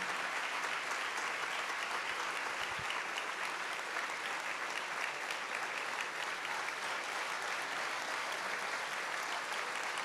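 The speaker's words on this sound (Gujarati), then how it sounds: "આપણે સૌ ખૂબ તાળીઓથી વધાવીએ આ બધા બાળકોને" A seated audience at a religious gathering gives steady, sustained applause for a group of children, an even wash of many hands clapping throughout with no pauses.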